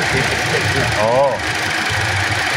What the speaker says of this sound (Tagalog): pakinggan nyo yung naglalagitik mga boss